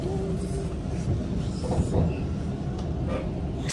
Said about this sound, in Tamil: நாங்கள் ட்ரெயின் எடுத்து இப்போ வந்து சிட்டிக்கு போயிட்டுருக்கோம்